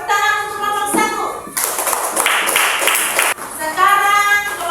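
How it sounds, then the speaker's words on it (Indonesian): A class of children claps for a group in a classroom, bursts of clapping between stretches of a teacher's and kids' voices, close and fairly loud. "Tepuk tangan untuk kelompok 1."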